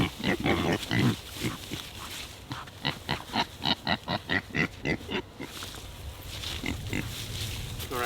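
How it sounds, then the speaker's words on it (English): Kunekune pigs out on grass grunt close by in a quick run of rhythmic, repeated oinks, with more scattered grunting before and after. "These are cooney pigs, so I hardly feed them."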